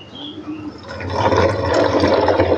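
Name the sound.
pouring clean water into a mixture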